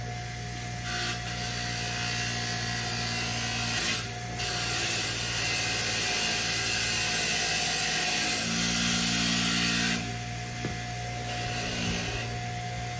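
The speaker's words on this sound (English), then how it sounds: "I got a wire wheel on one side and just a grinding wheel on the other" A bench grinder's wire wheel scrubs a metal bracket held in pliers: a steady motor whine under a coarse, continuous rasp that rises and eases as the part is pressed on and lifted off.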